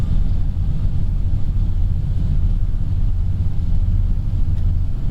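Steady low engine rumble of an airliner on its takeoff roll in the Prepar3D flight simulator, a continuous loud drone with no voices.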